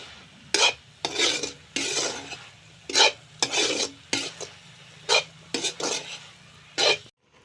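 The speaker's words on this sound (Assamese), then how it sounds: "এতিয়া মাছ দিয়া হ'ল।" Fish going into a pan of dried red chilli and cumin paste is stirred in repeated scraping bursts of utensil against metal, with a low sizzle underneath, close and fairly loud.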